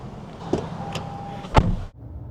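A car door shuts as someone gets back into a car, with a couple of soft knocks and rustles, then a solid thump followed by muffled interior quiet.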